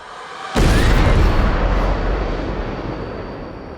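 A sudden heavy boom from an explosion in the animated series Arcane hits hard and loud, then rolls on as a dense, sustained rumble that slowly fades over several seconds.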